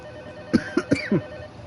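A telephone ringing in the horror video game Tormented Souls II, four short bell-like trills in quick succession over a faint ambient hum, with no talking.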